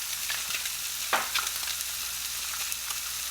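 Seasoned fish fries in a pan with a steady, close sizzle and crackle. A few brief scraping clicks cut through the bubbling, with no talking over it.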